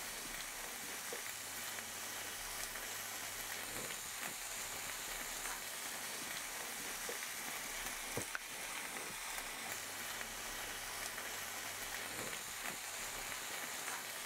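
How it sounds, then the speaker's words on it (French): Entrecôte steak frying in a stainless steel pan, a steady, moderately quiet sizzle with faint crackles and the occasional soft scrape, heard on its own with no voices. "On a cuisiné une entrecôte dans une poêle en métal"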